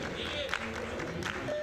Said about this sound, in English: Support coming from sections of the Spanish crowd here.